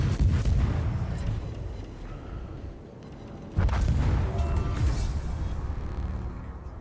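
Torpedo hits exploding against ships in the naval game World of Warships: deep, rumbling booms come in two heavy waves with a lull between them, each blast rolling out into a long, loud low roar.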